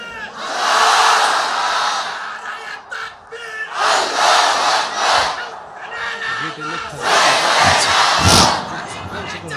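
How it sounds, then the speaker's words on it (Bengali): A large crowd of men roars a takbir chant during a religious sermon gathering in Bangladesh, several loud, sustained collective shouts swelling and fading over the duration with brief lulls between. "সবাই একটা তাকবীর দেন, লিল্লাহি তাকবীর"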